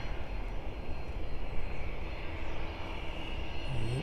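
An aircraft taxiing along runway 09 at an airport, a steady broadband engine roar that holds at a constant moderate level, with no voices.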